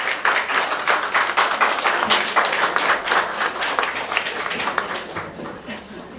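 Audience applause fills a hall at a live stage show, steady dense clapping throughout at close range, with voices faintly mixed in beneath it.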